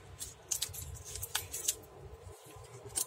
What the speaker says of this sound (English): cut out the excess tape just like this